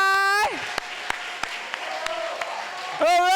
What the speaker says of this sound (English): round of applause for Riverside